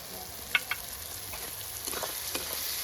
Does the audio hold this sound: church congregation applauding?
no